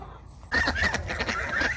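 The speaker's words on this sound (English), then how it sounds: "So here's a look at the geese." Several geese honk loudly and repeatedly at close range, a dense overlapping clamor that begins abruptly after a brief quiet moment.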